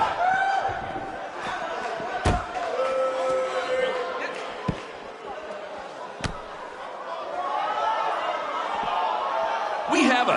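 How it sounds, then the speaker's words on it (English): A crowd murmurs and cheers in a wrestling arena in the WWE 2K19 video game, a steady roar of chatter with a few sharp slams standing out, while voices talk over it. "We have a sold-out, record-setting crowd here for BCW tonight."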